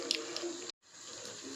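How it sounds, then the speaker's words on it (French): Water from a tap runs in a steady splashing stream into a pot of cooking rice, cut by a brief pause, then flowing again close and moderately loud. "On ajoute un peu d'eau."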